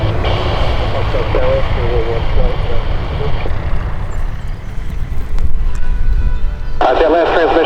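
An aircraft arriving to land at EAA AirVenture Oshkosh, a steady engine drone running throughout with radio-style talk over it and a brief whine near the end.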